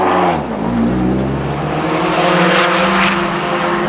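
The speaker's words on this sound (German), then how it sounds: "Etwas widerwillig erwacht der Treibsatz unter der Motorhaube dann zum Leben." Engine of a Heico Sportiv Volvo S40 race car catching and settling into a loud, steady rumbling idle with a strong low hum, close up and without talk.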